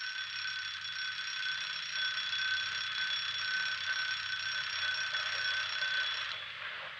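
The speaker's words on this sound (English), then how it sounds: "That's my little old alarm clock." An old wind-up alarm clock rings without a break for about seven seconds. The bright metallic tone is loud and steady, no one talks over it, and it cuts off near the end.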